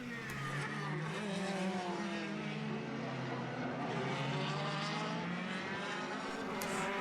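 Engines drone with rising and falling pitch as cars race laps in a 2021 Formula BOSS Ireland race, a steady distant roar with a commentator talking over it.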